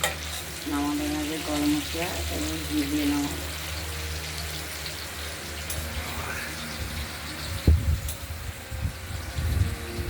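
Potatoes and pointed gourd fry in a pan with a continuous soft sizzle and occasional stirring scrapes, joined partway by clattering and a brief burst of running water near the end.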